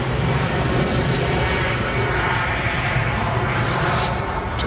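Jet airliner engines roar steadily at Manchester Airport, a loud, broad continuous rumble from a nearby easyJet aircraft, with no voices heard.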